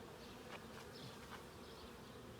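Honeybees buzz in the top box of a package hive during an inspection, a dense, steady hum with individual bees droning past close by, no voices.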